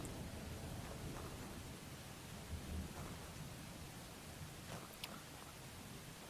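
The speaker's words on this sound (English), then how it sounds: "The thunder really goes off when it does." Thunder rumbling in the Prehistoric Hunt dinosaur game, a steady low roll with rain-like broadband hiss throughout and a slightly stronger swell near the middle.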